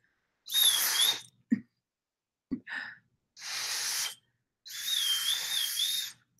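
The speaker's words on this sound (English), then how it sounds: "It is a fancy slide whistle" A small, fancy metal slide whistle from a jewelry lot is blown in several short, shrill bursts with wavering pitch. The bursts are separated by pauses, with faint clicks and breaths between them.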